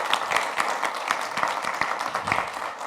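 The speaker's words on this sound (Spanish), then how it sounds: "Démosle un aplauso para despedir a nuestra invitada." Audience applause sending off a guest speaker at a talk on sustainability, a steady dense clapping from a room of people, fairly close and continuous for the whole stretch without talk over it.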